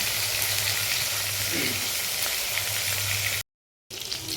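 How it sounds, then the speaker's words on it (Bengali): Pieces of katla fish shallow fry in hot oil with a loud, steady, close sizzle that cuts out briefly near the end before resuming. "অলমোস্ট আমার শ্যালো ফ্রাই হয়ে গেছে মাছ"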